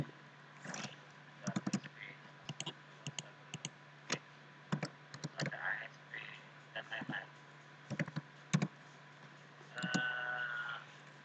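Computer keyboard keys tapped while entering commands at a command prompt, arriving as short clusters of crisp close clicks separated by pauses, with a faint steady hum underneath.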